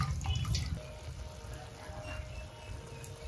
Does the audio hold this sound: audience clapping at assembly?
no